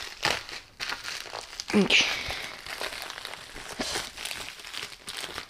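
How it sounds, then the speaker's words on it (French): Plastic packaging crinkles and rustles in bursts as a SAVFY telescopic GoPro monopod is unboxed, close up and mixed with someone speaking. "on va commencer à déballer tout de suite"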